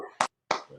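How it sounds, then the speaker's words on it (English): Two sharp, close hand claps land a fraction of a second apart during a casual podcast conversation. Each is crisp and isolated, with a brief silence between them. "Let's clap that up."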